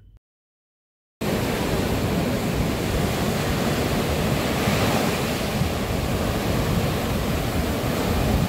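Waves roll in at Kala Patthar Beach on Swarajdeep Island in the Andaman Islands. After about a second of silence, a loud, constant roar of surf and wind continues without a break.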